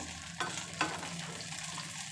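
Green chillies frying in a pan, a steady close sizzle with two quick stirring scrapes early on, no voices.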